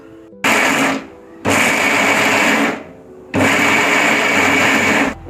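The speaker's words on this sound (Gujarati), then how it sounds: "તો હવે આ સિંગના દાણાને આપણે મિક્સર જારને બંધ ચાલુ કરી 3 થી 4 આટા વાટી અને સરસ રીતે ગ્રાઇન્ડ કરી લઈશું." A mixer grinder pulses peanuts in its jar, whirring loudly in three separate bursts of about one to two seconds each with short quiet gaps between.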